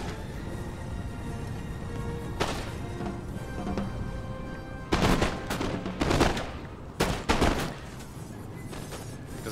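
Musket volleys in a Napoleonic battle in the video game Napoleon: Total War: crackling, ragged bursts of massed gunfire, several loud clustered volleys in the second half, over a steady rumbling battlefield din.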